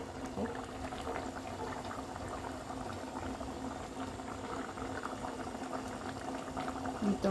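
Chicken caldereta with fried carrots and potatoes simmering in a pot in an outdoor dirty kitchen, a continuous soft bubbling and gurgling throughout at low level.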